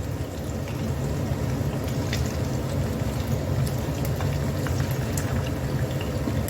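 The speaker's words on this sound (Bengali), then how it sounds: "এক পিঠ ভালোভাবে ভাজা হয়ে গেছে এখন অন্য পিঠ উল্টে দিচ্ছে" Chicken pieces fry in oil and are flipped over, producing a dense, continuous bubbling sizzle that stays loud and even throughout, with no talking.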